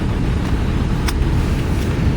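A 1968 AMC American with its check engine light on drives along, its engine and road noise a steady, close, low drone with a brief click partway through.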